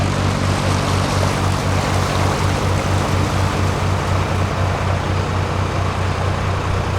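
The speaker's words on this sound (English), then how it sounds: "First boat of the day, past me." A canal narrowboat on the Leicester Line summit chugs past with a steady low engine throb, close and fairly loud, holding an even rhythm against a broad wash of noise.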